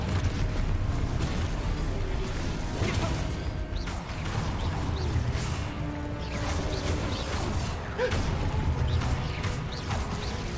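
Spell explosions in Hogwarts Legacy come as a dense, continuous barrage of booms, crashes and crackling blasts that overlap steadily, with short spoken incantations heard among them.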